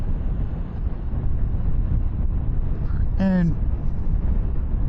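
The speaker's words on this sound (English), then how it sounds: "That wind is crazy. It's pushing me." Steady wind roar buffeting the rider on a 2024 KTM 1390 Super Duke R EVO at speed, a dense unbroken rush of noise with a short spoken word over it.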